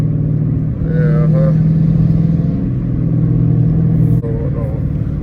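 A catless Dodge Challenger R/T rumbles through traffic in a loud, deep, steady drone from the open exhaust, rising briefly as it pulls, with a voice talking over it.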